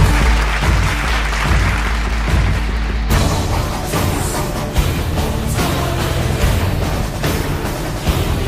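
Audience clapping at a Tamil church sermon, a loud burst of crowd applause mixed with booming, reverberant hall sound, then continuing in rougher bursts.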